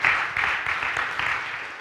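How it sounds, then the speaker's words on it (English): Audience at a live church politics podcast in Akron, Ohio breaks into applause, a brief, fairly close burst of clapping that stays steady before easing slightly. "Give me a round of applause."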